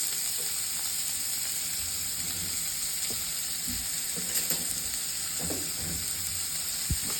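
Grated onions sizzle steadily as they fry in a pan over a low flame, a continuous close hiss with occasional soft stirring knocks and no talk.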